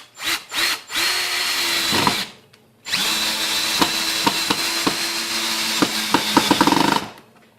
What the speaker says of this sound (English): Let's try a drywall screw.